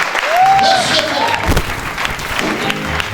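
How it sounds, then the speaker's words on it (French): A church congregation gives an ovation, with dense, loud clapping and cheering throughout and a rising, voice-like call or whistle standing out briefly over the crowd noise. "Sur vos ovations, vos acclamations."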